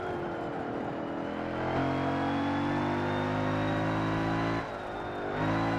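A race car in Forza Motorsport 7 holds a loud, high engine drone that climbs in pitch, drops briefly at gear changes and then rises again.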